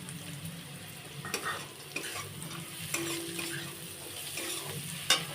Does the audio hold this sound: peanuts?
yes